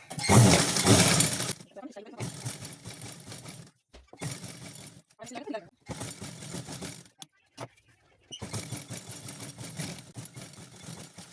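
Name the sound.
sewing machine stitching trousers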